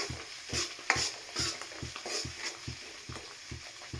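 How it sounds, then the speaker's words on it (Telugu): Tomato chutney frying in hot tempering in a pan, with soft sizzling and regular stirring scrapes about twice a second, close but fairly quiet. "చట్నీ వేసుకొని ఫ్రై చేసుకొని సాల్ట్ టేస్ట్ చూసుకొని మీకు తగినంత వేసుకోండి."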